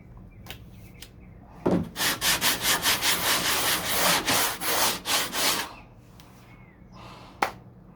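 A hard sanding block scrubs across a fiberglass door on a 1969 C3 Corvette in a quick run of about a dozen rhythmic strokes, close and fairly loud, with a few light taps before and after.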